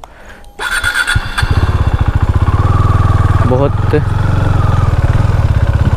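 A KTM Duke 390 motorcycle starts and settles into a steady, close, throbbing idle with a brief blip of revs, while someone speaks briefly over the engine.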